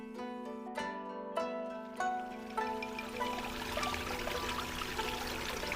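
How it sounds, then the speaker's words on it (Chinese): Water flowing in a stream through a Japanese garden, a soft continuous trickle and gurgle, faint and fairly close, with a few tonal notes standing out at the start. "随着溪流花园区里的潺潺流水声"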